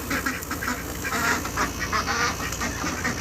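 A group of young ducklings peep and quack continuously at close range, their overlapping high calls forming a busy, unbroken chorus.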